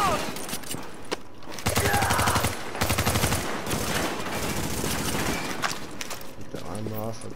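Gunfire from The Division rattles in rapid automatic bursts, loud and close, with dense runs of repeated shots broken by short pauses and steady game noise underneath.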